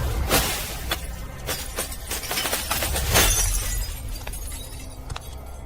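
A sound effect for an animated scene in which a reinforced glass containment shatters, with a sharp crash at the start followed by scattered tinkling and crunching shards over a rumbling, noisy background.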